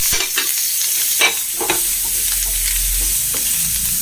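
Shallots, curry leaves, ginger and green chili fry in hot oil for a fish curry, a steady close sizzle broken by a few sharp scrapes and clinks of stirring, with no talk.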